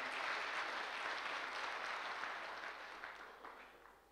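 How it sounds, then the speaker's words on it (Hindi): An audience claps in a dense, even burst that slowly fades over a few seconds, faint and distant in tone. "सर के लिए, उनके लिए, उस प्रोफेशन के लिए भी जबरदस्त वाली ताली"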